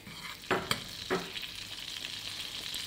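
Butter melting in a pan as the base for a roux, a soft steady sizzle broken by a few sharp utensil taps early on, then settling into a quiet continuous hiss.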